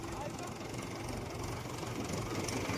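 A farm tractor runs steadily through a groundnut field, its engine a close, continuous broadband rumble with no breaks, and voices are faintly mixed in.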